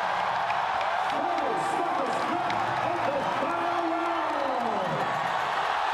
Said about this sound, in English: This crowd trying to rally Belingong home.